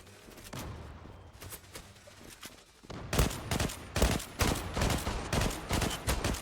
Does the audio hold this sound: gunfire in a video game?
yes